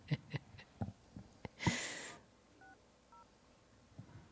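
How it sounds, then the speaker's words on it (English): A phone keypad is dialed near a mining claim in Montana: a quick series of short, clear tone beeps at an uneven pace, then quiet with a brief hiss and faint tones at the end. "we're calling the number you gave me"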